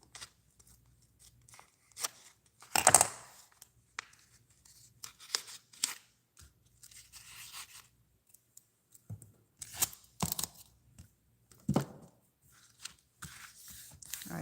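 Scissors trim washi tape for a travelers notebook, giving a few sharp isolated snips among quiet rustles and light handling clicks in a hushed room.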